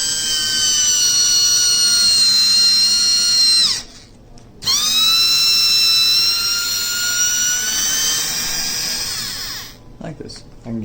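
Old cordless power drill fitted with a lithium battery runs in two long bursts, a loud close high whine with a rising pitch on spin-up and a drop on each stop.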